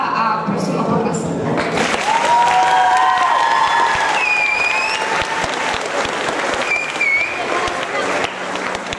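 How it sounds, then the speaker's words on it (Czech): An audience at a school performance event claps loudly in steady sustained applause, with a few whistles and shouts rising above the dense clapping. "A prosím o potlesk."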